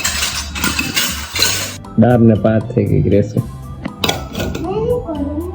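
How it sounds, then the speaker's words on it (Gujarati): Metal utensils and dishes clink and clatter as they are wiped and handled at home, in sharp bright bursts close by, while people talk over them. "આજે મારો દીકરો હજી વાસણ લૂછે"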